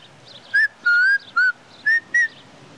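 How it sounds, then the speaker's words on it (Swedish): Five short whistled notes from a person, sharp and fairly close, with brief pauses between them and low background hum underneath. "Vissla då."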